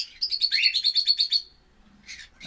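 Caged pet birds, albino ones among them, give a quick run of bright, rhythmic chirps close by, followed by a short pause and a few more chirps.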